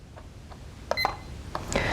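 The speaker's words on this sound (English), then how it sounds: "This is just a digital timer" A digital kitchen timer gives a few short, faint electronic beeps at irregular intervals, close by in a quiet room.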